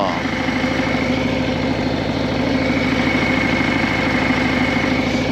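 A Harley motorcycle engine with a wiring or ECM fault runs loud and close, a steady throbbing drone that holds near constant rather than climbing sharply, with a voice speaking over it.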